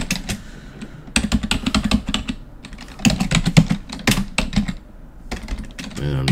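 Rapid bursts of clicking keystrokes on a computer keyboard as a terminal command is typed, loud and close, with short pauses between runs of keys.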